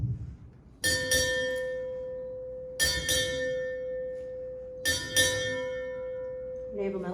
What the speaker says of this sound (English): Sound 6 bells.